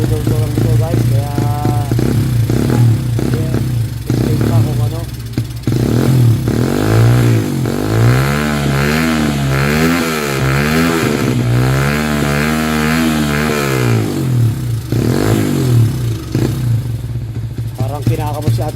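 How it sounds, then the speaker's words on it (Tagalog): A motorcycle with a freshly cleaned carburetor runs rough and misfires close by, its uneven, sputtering engine note rising and falling, while someone talks over it throughout. "Sobrang palyado guys. Kasi kalilinis ng carburetor lang dito guys."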